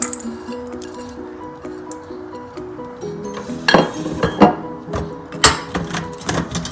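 Prawns being stirred by hand with ginger garlic paste, lemon juice and oil for a prawn biryani, giving wet squishing and clinking sounds that come in irregular bursts over a steady background hum.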